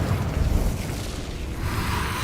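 An Incendio fire spell cast in Hogwarts Legacy, heard as a dense, rumbling whoosh of flame with a muffled burst. It sustains as a roaring wash of noise for a couple of seconds, fairly loud, with no voices over it.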